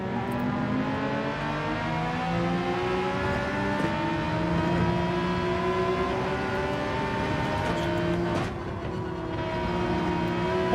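Porsche race car engine in Gran Turismo 7, a steady loud drone with rising and falling revs through gear changes, a brief dip near the end, no voices.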